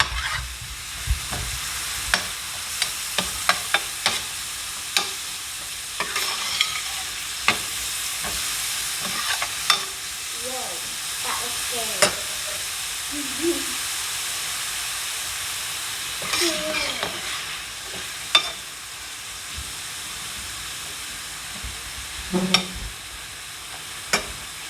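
Onions frying in a pan for stuffed bell peppers, with a steady sizzle broken by repeated sharp scrapes and clicks of stirring, close and fairly quiet, no talking.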